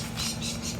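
Australian native bees kept in an ordinary beehive give a steady, close, continuous buzzing hum with no voices over it.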